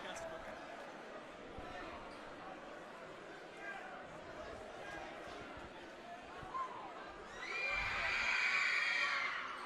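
Loud crowd noise fills a high school boys basketball gym during a Regis Jesuit vs. Legend game, steady chatter and shouting swelling into a louder cheer near the end, with a commentator talking over it throughout.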